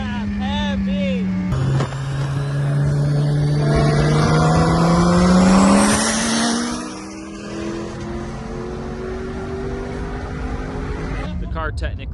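A 1000hp twin-turbo 9L stroker Dodge Viper with a sequential gearbox launches at a drag race, its engine roaring and climbing through gear changes as it passes loud and close, then fading into the distance while people talk over the crowd noise.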